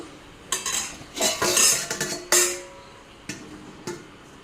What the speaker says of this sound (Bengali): ডাকনাটা দিয়ে দিলাম